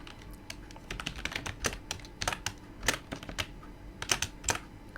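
Keys clatter on a computer keyboard as code for a Raspberry Pi project is typed, in irregular quick bursts of sharp clicks, close and clear with no talking.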